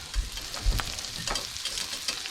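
Sausage gravy bubbles and sizzles softly in a pan while a utensil stirs it, making a few faint scraping knocks over the steady close hiss, with no talking.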